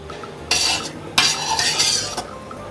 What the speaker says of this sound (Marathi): ही फोडणी मी व्यवस्थित मिक्स करून घेत आहे.